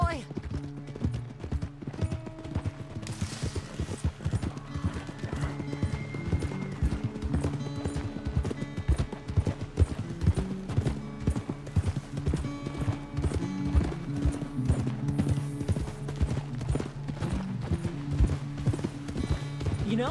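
A horse gallops in the Western video game Red Dead Redemption 2, its hooves clip-clopping in a fast, steady rhythm throughout, close and loud over a bed of game music.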